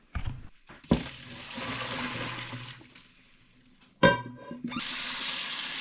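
Water drains from a pot of cooked green beans, pouring and rushing out in a steady splashing stream, stops briefly, then a second burst of gushing water follows, close by.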